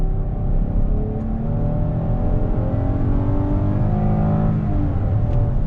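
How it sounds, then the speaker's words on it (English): A 2020 Chrysler Pacifica minivan accelerates under throttle, its engine rising steadily in pitch with a continuous, fairly loud drone heard from inside the cabin and no talking. "Let's see acceleration here on throttle."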